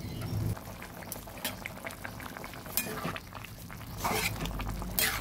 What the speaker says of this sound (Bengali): এবার কিছুটা বয়েল হতে দিচ্ছি।